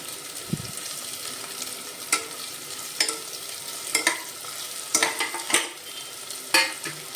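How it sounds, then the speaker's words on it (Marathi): Green chillies broken into a pan with ginger-garlic paste fry under a steady soft sizzle, punctuated by several sharp scraping stirs and pops close by. "परतून घेऊया आपण त्याच्यामध्ये टाकूया हिरव्या मिरच्या मोडून टाकते"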